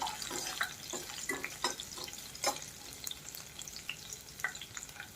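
Garlic frying until crisp in a pan over a low flame on a large burner, a soft, fairly faint sizzle with light stirring clicks scattered through it.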